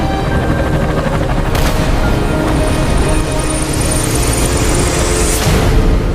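A helicopter flies close and loud with a dense, continuous rotor clatter and engine whine that holds steady throughout, mixed with other loud noise and no clear voices.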